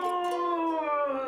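A cartoon dog, Courage the Cowardly Dog, lets out a brief, wavering, high-pitched howl that lasts just over a second, fairly quiet and alone.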